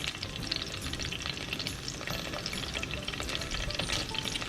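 Thai green curry sauce frying in a pan gives a dense, even crackling sizzle that holds steady throughout, close and moderately loud with no talk.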